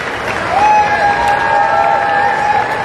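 Wimbledon crowd barracking during a 2018 match between Edmund and Djokovic, a loud continuous roar of voices with a shrill sustained whistle over the top, close and filling the space.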